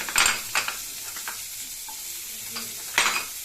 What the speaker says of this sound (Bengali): এই গাজর দিলাম